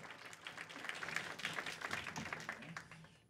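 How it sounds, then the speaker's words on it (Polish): A stage audience applauds to welcome a special guest at a debate event, steady dense clapping filling the whole stretch, faint and somewhat distant. "I wielkie brawa dla od Państwa, dla naszego gościa specjalnego."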